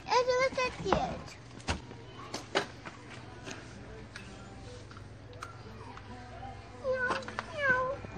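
A cat meows a few times in a quiet room, mixed with soft clicks and a child's and adult's voices speaking nearby.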